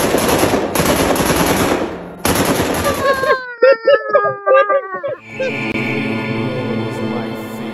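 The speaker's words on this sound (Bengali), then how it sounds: "ঠিক একটু পরেই শোনা গেল আকাশ ভাঙা গুলির আওয়াজ" Dramatized gunfire at a border crosses the opening seconds as dense, loud rapid bursts, then gives way to a wailing, pained voice and a lingering tonal background.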